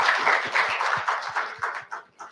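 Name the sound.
round of applause at conference hall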